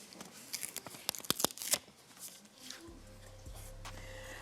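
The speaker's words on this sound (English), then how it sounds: "Open that envelope" A paper envelope ripped open up close, a flurry of sharp tearing and crinkling bursts, then quieter rustling as the paper settles, with no voices.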